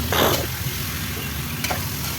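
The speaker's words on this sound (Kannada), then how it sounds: "ಅದೆಲ್ಲ ನೀಟಾಗಿ ಒಂದು 2-3 ನಿಮಿಷ ಎಣ್ಣೆಯಲ್ಲಿ ಫ್ರೈ ಮಾಡ್ಕೊಳ್ಳೋಣ" Thick-cut chicken pieces for biryani frying in hot oil in a village kitchen, a loud continuous sizzle close by with a couple of scraping stirs of the pan.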